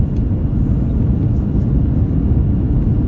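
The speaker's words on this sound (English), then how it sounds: "You can see aircrafts coming in, taxiing to the runway." Aircraft move on the ground at London Heathrow, making a loud, steady low rumble of jet engines with no pauses and no voices.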